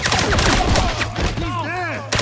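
Gunfire in James Bond 007: Bloodstone, loud and continuous, mixing with in-game voices that talk over the shooting.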